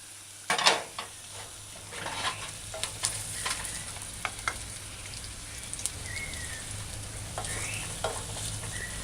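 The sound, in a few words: scallions being sautéed and stirred in a stir-fry pan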